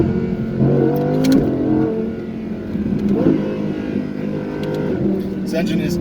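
An Audi R8 V10 plus accelerates hard under launch control, its engine a loud sustained roar with rising revs heard from inside the car, while people talk over it.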